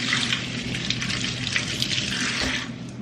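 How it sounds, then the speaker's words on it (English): Onion rinsed under a running kitchen tap, a steady close hiss of water splashing into the sink for about three seconds with small shifts as it hits the onion, no talking. "I am gonna take off all of this and rinse it"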